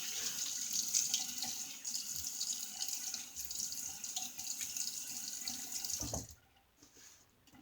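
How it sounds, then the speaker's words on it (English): A tap runs into a sink for a rinse during a wet shave with a 1960 Gillette Fatboy razor, a quiet steady stream that cuts off near the end, leaving near silence. "Let me get a little rinse."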